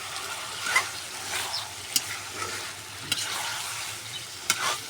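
Meat sizzles as it is stir-fried in a pan, a steady close frying hiss broken by a few sharp scrapes and clinks of the spatula.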